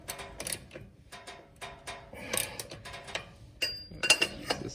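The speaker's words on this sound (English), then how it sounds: "tightening it just the same way I took it off, getting the extra leverage on there to really make sure that this guy is really torqued down" A hand ratchet tightens the transmission mount bolts on a 1997 Mazda B2300 with a manual M5OD gearbox, heard as close, rhythmic clicking strokes in uneven bursts with faint metallic clinks and no speech.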